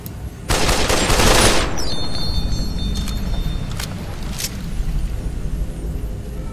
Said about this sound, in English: Now we do have an automatic rifle we can use.